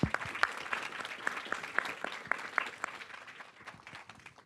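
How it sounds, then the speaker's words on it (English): Brief applause from a crowd at a university event on a presidential election debrief, with sharp, distinct claps that gradually thin and fade. "Can I get a round of applause?"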